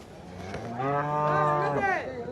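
Cattle being sold for meat give one long, loud, close moo that rises and then falls away over about two seconds, with faint background noise and no talk.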